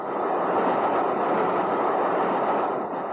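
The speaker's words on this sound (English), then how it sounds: "Did you hear that rattle of the wheels just now?" A train on the London, Brighton and South Coast line rattles steadily over crossover points, a dense continuous rumble and clatter of wheels heard from on board, with no voices.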